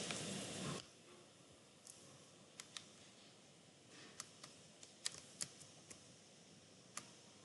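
Typing on a computer keyboard while writing a CV in Microsoft Word: sparse, crisp single keystrokes and small clusters, close and quiet, after a brief burst of noise at the start.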